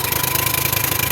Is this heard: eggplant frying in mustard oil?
no